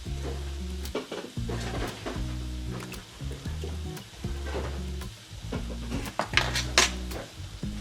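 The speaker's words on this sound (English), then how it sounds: "I'm going to whisk this until there's no clumps" Cornstarch being whisked into a mixture in a pot, heard as continuous close scraping and tapping against the pan with short pauses between bursts, moderately quiet and with no voices.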